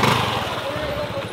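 A Yamaha NMAX motor scooter putters steadily at close range, a low rhythmic engine thrum running continuously under the scene.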